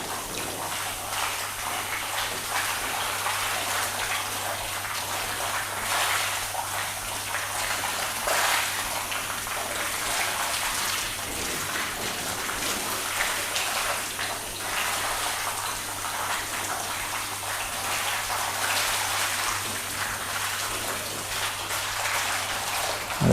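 Water from a garden hose pours steadily over a coated car's panels, a continuous broad splashing hiss that stays close and even throughout, with a faint low hum underneath and no talking.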